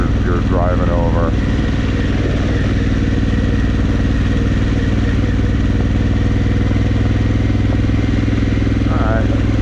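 Adventure motorcycle crawling over coral rock, its engine a steady, close rumble with light clattering underneath and a couple of short chirping squeals at the start and end.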